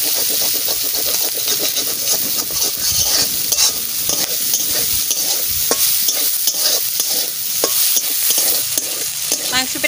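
Chicken pieces for a Mughlai-style dish fry in a pan over a wood fire, with steady sizzling and hiss under repeated scraping stir strokes, close and loud for the whole stretch.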